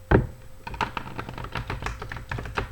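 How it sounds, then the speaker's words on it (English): Tarot cards being shuffled during a twin flame reading, giving a run of quick, close, crisp riffling taps and flicks in irregular bursts, with no talking. "One more shuffle."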